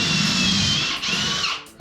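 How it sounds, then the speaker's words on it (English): A power drill whines at high speed close by, boring pocket holes in wood for shed doors, briefly dipping before spinning back up and then winding down. "Drill down on either of the outer holes here."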